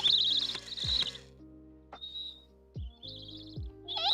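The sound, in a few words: sound-activated toy bird making tweeting noises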